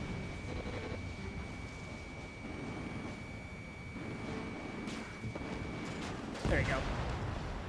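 Twin 20mm cannons fire in Ace Combat 7 aerial combat, a dense, continuous rumbling roar that runs the whole stretch with a sharper burst near the end, and a voice speaks briefly over it.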